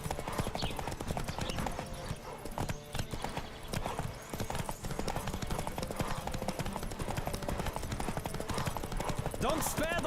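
A horse gallops at full speed in a horse race from The Witcher 3 video game, its hooves hammering a rapid, unbroken rhythm up close, with a whinny and a voice shouting in the mix.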